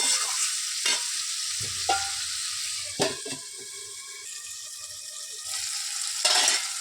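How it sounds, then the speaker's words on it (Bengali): Cauliflower and potato sautéing in a pan, with sharp spatula knocks and scrapes against the metal over a low crackling sizzle, stirred in irregular bursts and close by. "এবার দেখুন খানিকটা কষানো হয়ে যাচ্ছে।"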